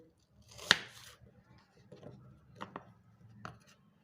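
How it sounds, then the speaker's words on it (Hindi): Knife chopping an onion on a board in a quiet kitchen, a sharp first cut followed by a few sparse, soft slices with pauses between them. "अब हम प्याज को काट लेते हैं।"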